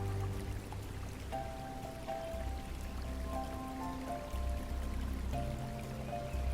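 Water flowing steadily in a stream, a continuous close wash of rushing and trickling with soft higher drips, and a faint gentle tone layered over it.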